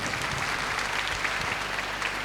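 Dense applause from a college crowd at an Independence Day celebration, honoring a student performance, steady and even throughout with no pause.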